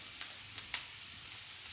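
Leek, celery and onions sweat gently in a saucepan as the aromatic base for a fish stock, giving a soft, quiet sizzle with a few faint clicks and stirring sounds.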